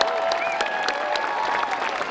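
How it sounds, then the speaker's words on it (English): Steady, full applause from a crowd at an evening holiday Festival of Lights event in Riverside. A few voices call out over the dense clapping, which carries on without a break. "Let's give another big round of applause to Mr."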